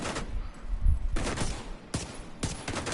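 Gunfire in The Division 2 on PS5: several sharp bursts of automatic shots, loud and close, spaced about a second apart with brief gaps between, and no talk over them.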